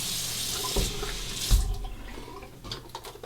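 Tap water runs steadily into a bathroom sink for a final face rinse after a shave with an iKon SBS razor, a close hiss broken by splashes and drips as hands move through the stream.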